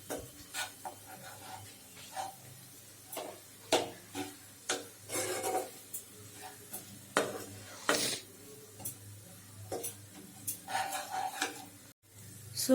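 Onions for palak paneer are stirred in a pan over a low to medium flame, giving a steady run of rhythmic scraping and rasping strokes, close and fairly loud, with a soft background hum and no talking.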